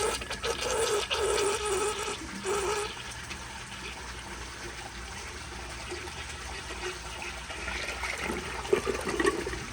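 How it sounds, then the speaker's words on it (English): A 2010 American Standard Baby Devoro toilet flushes with a steady rush of water and gurgling swirl, close and continuous, with tank refill trickle beneath and no talk. "Here is another flush."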